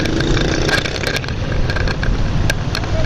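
A motorbike rides along a rain-wet road after light rain, a loud continuous engine rumble blended with tyre hiss and wind, with occasional sharp clicks and no talking.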